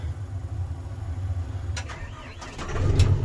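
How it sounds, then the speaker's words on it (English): A cold backhoe engine cranks and starts, a low rumbling churn that swells louder toward the end, with a few brief chirps above it. "You think our backhoe starts okay when it's cold?"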